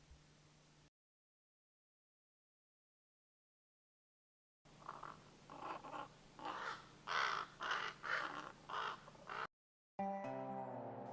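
Crows call in a run of about seven harsh, rhythmic caws after a stretch of silence, fairly close and clear outdoors, followed by a brief different call at the end.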